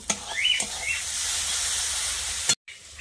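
Eggs and potatoes hit hot oil and spices in a pan with a steady, loud hissing sizzle that holds across the clip, broken by a few clatters and a brief cut near the end.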